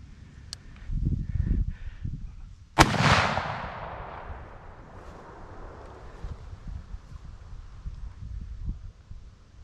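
A single loud muzzleloader shot fired at a deer outdoors, a sharp crack followed by a long, rolling echo that fades over several seconds, with wind rumbling lightly before and after.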